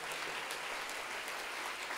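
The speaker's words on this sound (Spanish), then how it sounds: "Dar gloria al Señor con un fuerte aplauso delante de su presencia" A church congregation at an evening praise and worship service gives loud sustained applause, a thick continuous roar of many hands clapping together with no speech over it.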